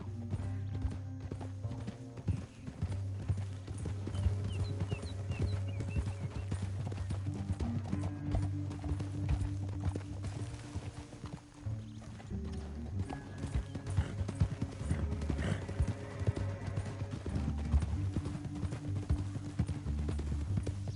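Horses in the video game Red Dead Redemption 2 gallop with a steady, rapid clip-clop of hooves over a low rumble of hoofbeats, continuous and fairly distant, with no voices.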